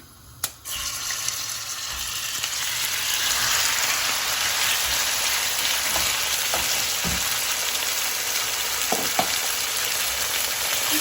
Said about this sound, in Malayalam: എണ്ണ നന്നായിട്ട് ചൂടായിട്ടുണ്ട്. അതിലോട്ട് നമ്മൾ ഈ ചിക്കൻ ഇട്ട് കൊടുക്കുകയാണ്